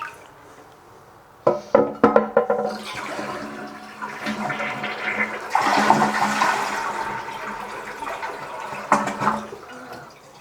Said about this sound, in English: even though you flushed and the tank's empty